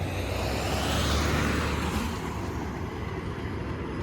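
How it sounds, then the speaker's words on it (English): Line 6 Finch West LRT light rail train approaching Driftwood Station on Finch Avenue West, a broad steady rumble and whoosh at moderate distance with street traffic mixed in, no talk. "here is another train approaching Driftwood Station"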